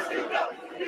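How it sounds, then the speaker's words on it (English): A wrestling crowd at ECW One Night Stand roars and chants in a brief swell of massed voices, loud and distant-sounding, rising and dipping within a second. "Like that crowd, like listen to that crowd."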